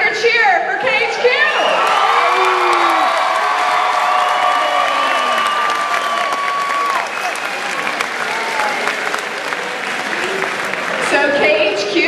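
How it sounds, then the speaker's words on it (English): A school crowd at a Lewis and Clark Martin Luther King Jr. convocation roars a loud, sustained Tiger cheer with shouting, whoops and clapping for about ten seconds before fading. "let me hear a Lewis and Clark Tiger cheer for KHQ"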